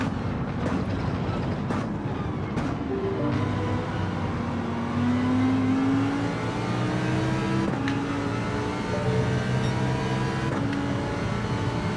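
A race car engine in Gran Turismo 7 drones steadily, rising and falling in pitch through gear shifts and accelerations, with a few sharp clicks along the way and no talking.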